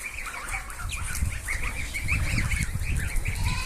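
Geese honk repeatedly in a noisy grazing flock, overlapping calls throughout with low rumbling handling noise underneath, fairly close.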